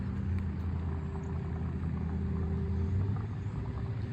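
A 1964 Chevrolet Malibu convertible's 327 V8 idles steadily with a low, even rumble at close range and no voices over it.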